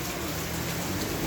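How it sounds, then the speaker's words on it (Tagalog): Rain falls steadily in a brief, even patter with a dense wash of drops and no talking. "Gabi ka pa paulan ng ulan, guys. Paulan-ulan."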